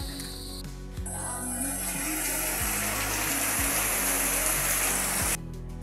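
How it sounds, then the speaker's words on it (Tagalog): Heavy rain pours down at night as a dense, steady hiss that holds for several seconds, with a few low thumps and faint background sounds, then stops abruptly near the end. "Ang lakas ng ulan. Grabe na naman yung ulan."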